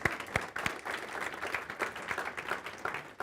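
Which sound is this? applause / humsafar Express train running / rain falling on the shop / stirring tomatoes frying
applause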